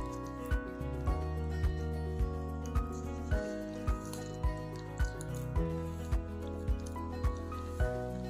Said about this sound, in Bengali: এইভাবে ভালো করে চটকে নিলে তাহলে পাটিসাপটাটা ভালো হবে